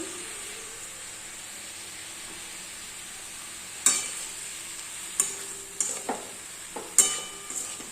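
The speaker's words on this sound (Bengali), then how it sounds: "আমি শাকটা ভাজা বসিয়ে দিয়েছি" Greens fry with peanuts in a pan, a soft steady sizzle and hiss that runs throughout, later broken by several sharp clinks and scrapes from stirring, with no talk.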